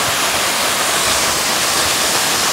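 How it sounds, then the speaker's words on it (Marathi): A waterfall roars loud and close as a dense, unbroken wash of rushing water with no pauses or voices. "इथून जी वॉटरफॉल बघायची मजा आहे"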